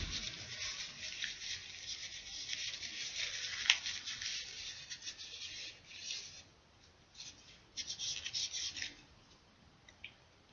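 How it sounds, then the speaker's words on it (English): Glue being wiped off a handmade replica of Kirito's black longsword: quiet, uneven rubbing and scraping strokes in bursts, with a sharp tick partway through and short pauses between passes, and no voices. "And wipe the glue off first though."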